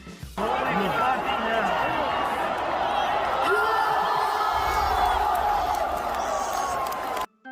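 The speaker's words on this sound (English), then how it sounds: "the crowd just popped huge for it, loved it" Wrestling arena crowd roaring and cheering after a high dive spot in a tag team match, a loud, dense, sustained wall of whoops and shouts that holds steady for several seconds before cutting off.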